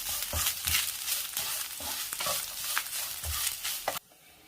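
Grated coconut roasts over a medium flame in a pan, stirred with repeated rhythmic scraping strokes and a light crackle, until the sound suddenly cuts out near the end.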